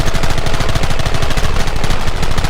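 Rapid, loud bursts of gunfire from a Red Dead Redemption shootout, dense overlapping shots rattling continuously with no pause for the full few seconds.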